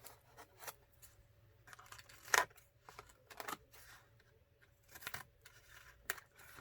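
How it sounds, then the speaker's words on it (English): Scissors trimming overhanging collage paper bits from the edges of a vintage-style art journal page: soft, sporadic snips and paper rustles, close and quiet, with one sharper cut partway through and no talking. "Let me cut off whatever collage bits I have sticking over."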